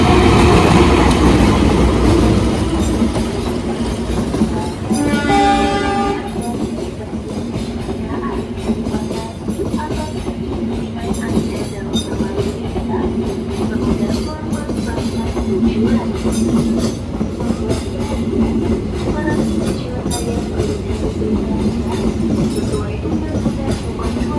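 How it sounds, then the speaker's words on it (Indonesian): Mataram passenger train hauled by a CC203 locomotive, its rumble, wheel clatter and a loud horn burst near the start rolling by close at a level crossing, continuing steadily throughout. "Ada kereta api Mataram teman-teman, pakai lokomotif CC203."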